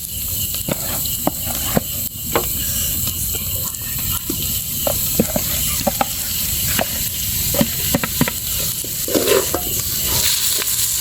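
Meat sizzles and fries in hot oil in a village pan, giving a loud, steady hiss broken by frequent sharp crackles and the odd stir.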